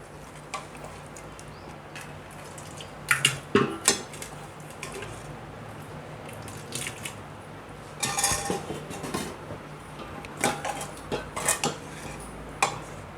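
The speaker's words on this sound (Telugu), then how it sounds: "ఇలా మొత్తం నెయ్యి వేసిన తర్వాత మటన్ వేసుకోవాలి." Mutton added to hot ghee in a cooking pot for biryani, clinking and clattering of utensils against the pot in short clusters over a faint sizzling background, close by with no talk.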